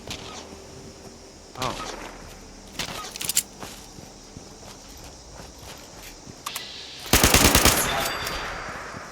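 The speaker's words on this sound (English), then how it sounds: "Okay, what's with all the shooting?" Bursts of video game gunfire and rapid machine-gun shooting: a few separate volleys early on, then a loud, dense automatic burst near the end, with a brief exclamation.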